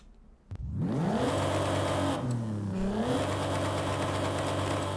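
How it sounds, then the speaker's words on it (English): A diesel car engine in the Forza racing game starts with a sharp crank, then revs up and falls back before settling into a loud, rumbling idle, close and alone. "I don't know about that sound, but it has a legendary engine in it."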